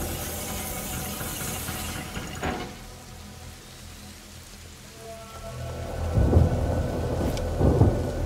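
Thunderstorm in the video game A Plague Tale: Innocence: steady heavy rain hiss with deep rolling thunder rumbles that swell loudly near the end, with no talking.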